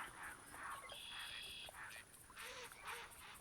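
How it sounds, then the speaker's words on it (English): Gadwall ducks in the hunting game theHunter Classic give faint, nasal quacks in short repeated bursts, some distant, over a quiet outdoor bed. "These are the gadwalls. You can hear quack, quack,"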